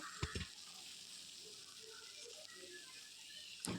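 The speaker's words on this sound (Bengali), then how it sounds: "এবার এটাকে ভালো করে একটু নাড়িয়ে চাড়িয়ে কষিয়ে নেব" Chicken and papaya pieces sizzle steadily while being stirred in a pan, a continuous low hiss with a couple of brief clattering knocks near the start and end.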